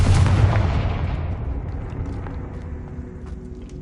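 A Confringo fire spell from the Hogwarts Legacy video game bursts in a single loud, close explosion that rumbles and slowly fades over several seconds, with no talking.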